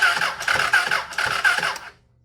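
An engine, held with the clutch in, turns over on the starter in a quick run of rhythmic cranking pulses for nearly two seconds before it cuts off into quiet.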